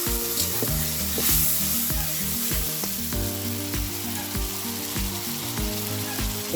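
Two spoons of garlic paste hit hot oil with onions in a pan for chicken curry, a loud continuous sizzle and crackle with occasional stirring and faint musical tones beneath.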